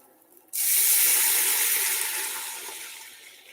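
Homemade chicken stock pours into a cooking pot, a sudden splashing gush that starts abruptly and then tapers gradually as the stream thins.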